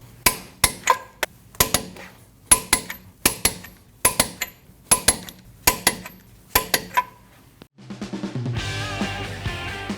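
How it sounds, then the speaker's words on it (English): Sharp rhythmic metallic clacks from a torque wrench tightening lug nuts on a 2012-2021 Nissan NV2500 rear wheel, about a dozen loud close impacts in quick series, then a steady broadband whir near the end. "Now you want to torque down all your lug nuts to 131 foot-pounds."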